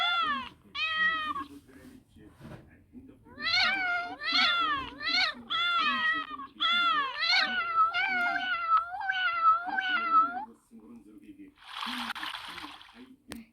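Several cats meow in repeated bursts, played back from an online search result, with a brief hiss-like noise burst near the end; a person speaks quietly in between.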